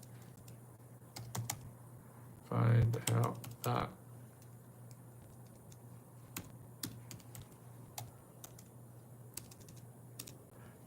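Computer keyboard keys tapped in scattered, light clicks across the stretch, with a short burst of nearby talk partway through and quiet background hum.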